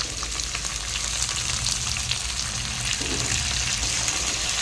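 Sorrel leaves (chukkakura) dropped into a hot pan for a paneer curry, frying with a dense, continuous sizzle and crackle, close and fairly loud, with a faint stirring shift partway through.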